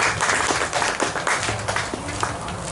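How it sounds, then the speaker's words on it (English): Audience clapping for a performer at a spoken-word open-mic evening, a steady mid-sized burst of applause with scattered claps and crowd murmur, moderately loud throughout. "All right, clap up Connor one more time"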